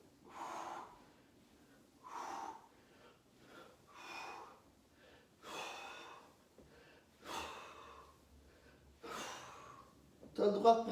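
Heavy, rhythmic workout breathing during a home fitness exercise session: six loud gasping breaths at steady two-second intervals, close and alone with only faint background, ending with a brief sharp noise.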